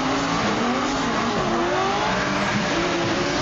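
A drift car's tires squeal continuously as it slides along a mountain road, the sustained screech loud and close over a steady engine roar, with no talk.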